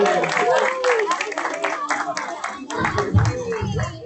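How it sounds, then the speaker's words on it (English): Parents clap for children after a school Black History Month performance, a steady burst of applause mixed with kids' voices and adult chatter. "Give me a round of applause, parents."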